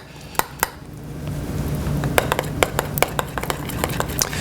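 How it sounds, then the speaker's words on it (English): A spoon stirs zucchini noodle sauce in a pan, giving a scattering of sharp metallic clinks and scrapes, a couple at first and then a quicker run of taps. "Just give that a quick stir in."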